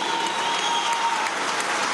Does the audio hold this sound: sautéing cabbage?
no